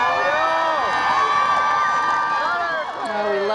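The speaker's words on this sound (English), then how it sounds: "That is the sound of a lot of very proud families." Crowd of proud families cheering and whooping at a Richmond County high school graduation, a dense wash of shouts and high voices, loud and sustained throughout.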